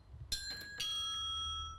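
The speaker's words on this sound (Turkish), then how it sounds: "Kapıyı çalıyoruz o kadar." A bright electronic doorbell chime sounds at a neighbor's house door in the video game Hello Neighbor, two ringing tones that sustain and slowly fade over a low background hum.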